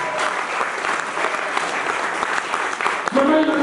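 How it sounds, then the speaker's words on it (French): A congregation in a church service applauds and cheers Jesus in a continuous dense wash of clapping and voices, loud and close, and the crowd noise swells near the end. "Commence à acclamer Jésus"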